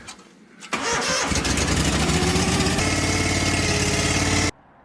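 A four-wheeler ATV engine cranks briefly, catches and roars up loudly, then settles into a steady, rough idle for several seconds before cutting off abruptly into near quiet.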